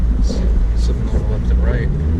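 A 2016 Mazda CX-9 AWD accelerating through blizzard snow, its steady low engine rumble close and continuous, with a voice talking over it throughout.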